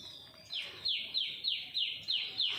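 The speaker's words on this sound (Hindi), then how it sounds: "पक्षियों की आवाज़ भी बड़ी मस्त लग रही" Birds chirp repeatedly in a dense tree, a series of bright, descending high-pitched calls about every third of a second, fairly close and clear over a faint outdoor background.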